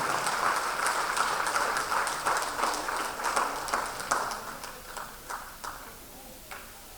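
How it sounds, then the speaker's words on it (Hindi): Audience applause fills a Kala Mandir auditorium in Kolkata during an honouring ceremony, a dense steady clapping from many hands that gradually thins and fades, with a voice speaking over it. "तो तालियों में फिर कंजूसी कैसी है।"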